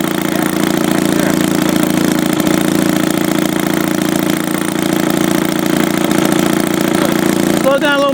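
A rebuilt Maytag 72 single-cylinder engine idles loudly up close in a steady rapid putter, with a brief clank and voices near the end.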